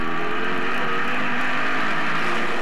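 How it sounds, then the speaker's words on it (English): A race car at the 2009 Tide 250 in St-Eustache spins its tires exiting a corner, with a loud, steady, high-revving engine roar filling the whole stretch and no talk. "you can really hear that car spin the tires off the corner"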